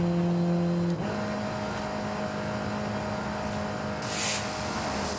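An Alfa Romeo 4C engine in a racing video game drones steadily at top speed, with a sharp drop in pitch as it shifts up into a higher gear about one second in, then holds a continuous hum.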